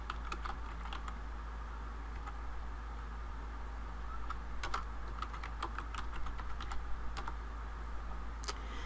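Typing on a computer keyboard while entering a column header in an Excel spreadsheet, quiet close key taps in irregular bursts over a steady low hum.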